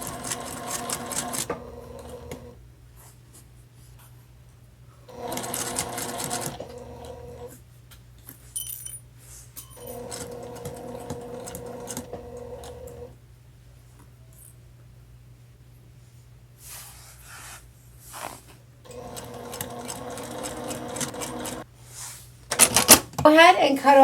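A sewing machine stitches along the edge of a heart-shaped pillow in several separate bursts of a few seconds each, close and steady, with pauses in between and a steady low hum underneath.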